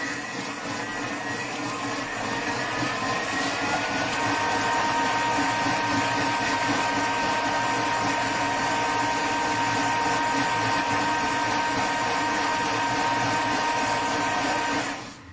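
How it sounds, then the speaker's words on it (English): A steady, loud motorized whir from a kitchen machine chopping ingredients for tomato basil chicken fettuccine runs throughout, rough and grinding at first while chopping, then smoothing into a constant hum. "you can hear at the beginning where it's chopping stuff"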